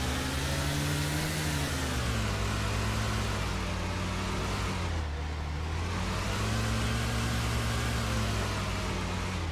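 A car engine in the DayZ video game drones steadily and loudly while driving, its pitch gently rising and falling twice as the vehicle speeds up and slows, with no talking over it.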